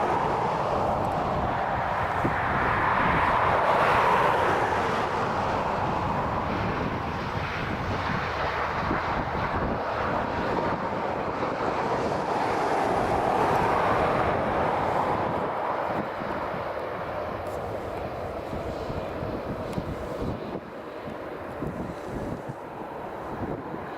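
An Air France Airbus A320 passes at Dublin Airport, its engine roar swelling and fading over about twenty seconds, heavily buffeted by wind noise on the microphone.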